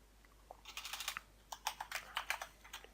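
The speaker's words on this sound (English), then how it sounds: "Make sure I type that right." Typing on a computer keyboard while coding in MATLAB, a quick run of fairly faint key clicks in uneven bursts, with no talking.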